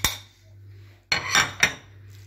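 Utensil clinks and scrapes against a pot as rice, turkey and onion are stirred together, a faint stir followed by a few sharp, close metallic knocks.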